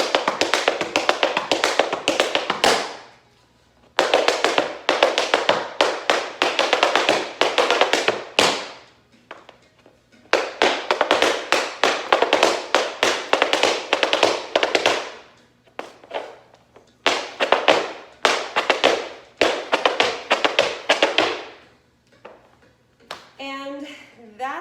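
Bloch JSam tap shoes strike a hard floor in fast bursts of paradiddles, pullbacks and wings, loud, ringing and echoing clusters of clicks separated by brief pauses.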